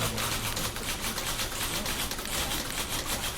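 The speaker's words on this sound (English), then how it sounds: "Typewriter." Rapid, regular typewriter clacking from The Beginner's Guide video game, keys struck steadily and loudly throughout with no pauses.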